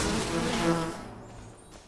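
Swarming bees buzz in the video game Enshrouded, a dense, fairly loud insect drone that holds steady for about a second and then fades away with no talk over it.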